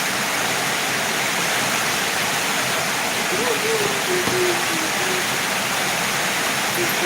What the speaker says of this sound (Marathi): पावसामुळे येत नाही बरं का पाऊस चालू आहे